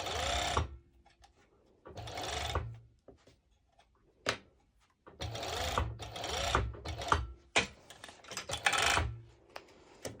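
A serger sewing machine runs in short, loud, fast-whirring bursts as it stitches a sporty top with mesh overlay, separated by quiet pauses and small clicks.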